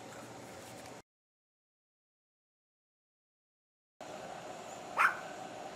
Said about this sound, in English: with the doggy barking in the background